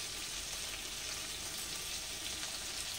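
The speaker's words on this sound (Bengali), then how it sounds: "কপিগুলো আমার ভাজা হয়ে গেছে, 5 থেকে 6 মিনিট মতন ভাজলাম।" Cauliflower frying in a pan gives a steady, even sizzle of hot oil, close and unbroken for a few seconds before cutting off.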